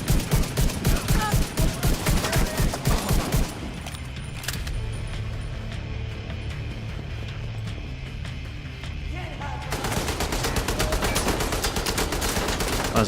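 Rapid machine gun fire from The Division 2 rattles loudly in dense bursts, drops back under a steady din of combat noise, then resumes as a fast continuous stream near the end.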